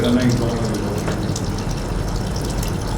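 Water poured into a water electrolysis machine: a steady, close, full rushing splash that continues unbroken from start to finish.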